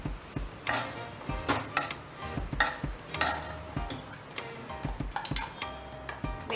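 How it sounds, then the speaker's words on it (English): Lemon pickle being stirred with salt and blended spice powder, a spoon scraping and clicking against the bowl in an irregular rhythm, close and moderately loud, with no talking. "We need to mix well."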